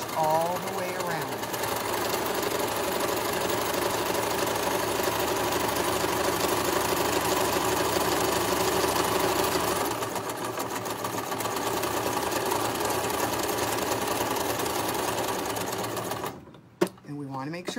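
A sewing machine runs continuously, top stitching along the edge of a drawstring gift bag with a steady close mechanical whir, and someone talks over it before it stops near the end.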